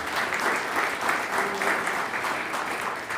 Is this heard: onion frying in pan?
no